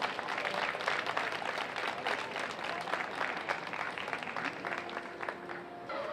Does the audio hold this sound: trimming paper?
no